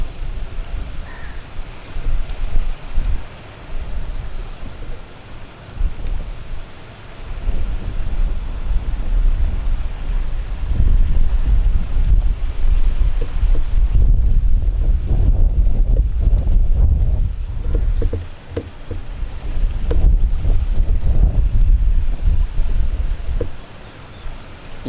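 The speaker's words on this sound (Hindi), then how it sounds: "यद्यपि हवा भी काफ़ी तेज़ चल रही है" A strong wind blows over open water where a man floats still, doing water yoga. Loud gusts buffet the microphone in heavy, rumbling surges that swell and ease over about twenty-five seconds, with no voices.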